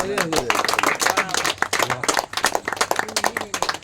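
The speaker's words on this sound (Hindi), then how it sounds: "जरा जोरदार तालियां हो जाए भैया।" Loud, uneven clapping from a small gathering of family and guests at a 91st birthday celebration for an elderly man, close by and mixed with chatter and voices throughout.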